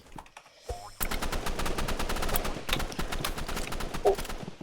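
Automatic gunfire in the online shooter game Rivals: a rapid, sustained stream of shots starts after a brief quiet opening and runs to the end, loud and close, with no talk.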